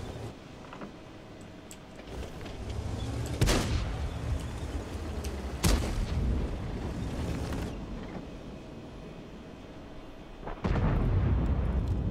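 Tank cannon shots in World of Tanks on the Kursk map, a few heavy booming blasts spaced seconds apart over a low rumbling engine bed, with no talk.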